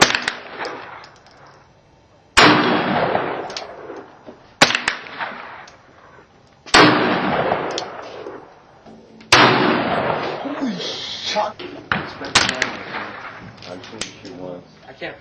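Gunshots at a shooting range ring out as sharp, loud single reports a second or two apart, each trailing off into echo, with people talking between shots.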